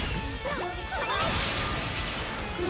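A bomb hit in the BlazBlue Central Fiction fighting game bursts out as a dense crashing smash, with layered impact effects and swooshes over busy game audio and no voice.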